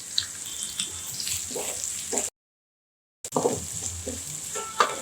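Garlic, chopped onion and curry leaves sizzling and being stirred in hot oil for beetroot masala, a steady frying hiss with scraping stirs, broken by a brief silent gap.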